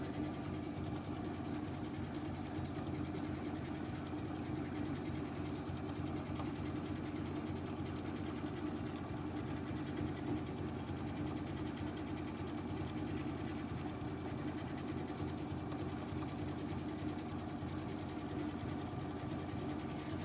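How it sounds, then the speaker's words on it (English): A sewing machine stitches in circles, its motor whirring in a continuous steady hum for the full twenty seconds with no pauses or talk. "there's so much fun that can be had with the circle sewing part"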